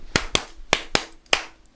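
Five sharp hand claps ring out in a quick, slightly uneven rhythm, close and loud with nothing else around them.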